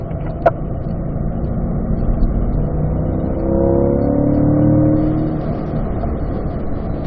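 A car accelerates on a race track with a loud, continuous engine drone that builds and climbs in pitch midway through before settling.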